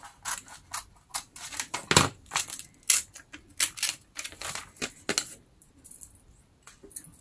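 Parchment paper is cut in a rapid series of crisp, close snips and rustles, irregular in rhythm, with a short pause near the end.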